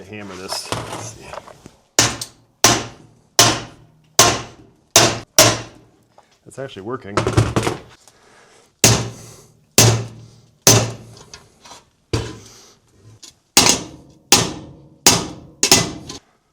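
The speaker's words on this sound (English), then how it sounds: "I need to hammer this." Repeated sharp metallic hammer blows in uneven bursts, a few strikes at a time with short pauses between, close by, with brief talk early and midway.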